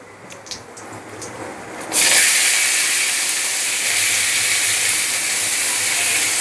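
Sliced onions hit hot oil with cumin for a light mutton curry, bursting into a loud, steady sizzle after a quieter stretch of faint kitchen clatter, the hiss holding strong and even to the end.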